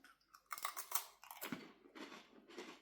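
Close, crisp crunching and chewing of a crunchy Indonesian potato snack, a run of sharp bites followed by softer rhythmic chews, quiet and with no talking.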